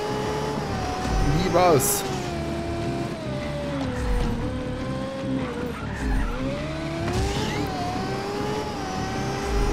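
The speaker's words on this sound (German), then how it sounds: "Das Formel 1 Auto ist echt das beste Auto hier." Formula 1 car in the Just Cause 3 video game, its engine droning at a steady high pitch that rises and falls with gear changes, with a brief tire skid, running continuously under someone talking.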